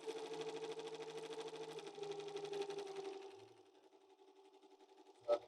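A BAI V-22 embroidery machine stitches steadily at 850 stitches per minute, a dense, even mechanical whir with rapid rhythmic clatter that fades slightly toward the end before a brief sharp knock.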